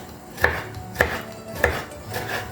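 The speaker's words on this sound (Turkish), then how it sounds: "sarımsağı da ince ince doğrayacağım" A kitchen knife chops garlic finely for a spicy penne arrabbiata, giving three sharp, evenly spaced thuds on a cutting board, close and moderately loud, followed by quieter scraping, with no talking.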